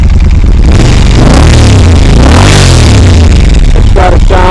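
A Moto Guzzi Norge motorcycle with an aftermarket exhaust revs up close and loud, its deep engine note rising and falling through one long swell before settling.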